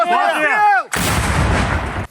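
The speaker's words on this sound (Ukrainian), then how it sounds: "Постріл!" A sharp, loud gunshot blast with a rumbling, echoing tail, following a moment of rising, whistling tones.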